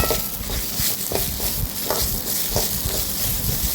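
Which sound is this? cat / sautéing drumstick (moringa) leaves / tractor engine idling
sautéing drumstick (moringa) leaves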